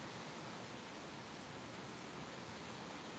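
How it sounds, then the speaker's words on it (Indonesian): Heavy rain pours in a steady, dense hiss that fills the whole stretch evenly, with no pauses or separate drops standing out and no voices. "Ini hujan besar ya, suara saya nggak begitu jelas mungkin."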